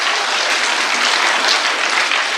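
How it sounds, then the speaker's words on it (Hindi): An audience at a Hindi-Urdu poetry recital, a mushaira and kavi sammelan in Baradari, Ghaziabad, claps in a dense, continuous burst of applause, loud and steady throughout. "एक बार मजमूई तौर पे यार तालियां बजनी चाहिए"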